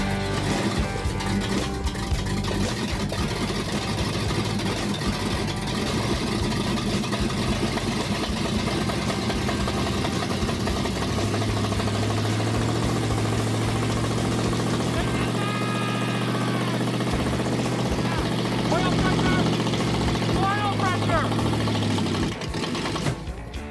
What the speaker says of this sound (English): Well, the engine works. It sounds like it needs timing work.